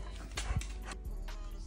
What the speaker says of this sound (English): Teaching Apollo to use the doggy door, and instead, he patiently waits